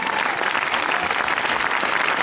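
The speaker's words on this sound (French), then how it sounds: "Un applaudissement pour Dany Boud, s'il vous plaît, et Guy Lécuise." A cinema audience at a Pathé theatre in Evreux applauds the actors Dany Boon and Guy Lecluyse at a film premiere. The clapping is dense, steady and close, and it fills the whole stretch without a break.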